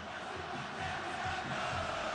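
A steady, distant roar of Bahia supporters filling Arena Fonte Nova during a 2015 Série B football match against Botafogo, a dense crowd wash with no distinct voices.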